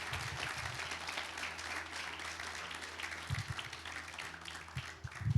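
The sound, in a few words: church congregation applauding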